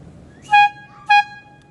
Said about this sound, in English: like a air horn that runs up. It's like a plastic bottle that you fill with air with a bike pump.